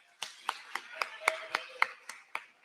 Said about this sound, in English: Y'all can give a round of applause for that.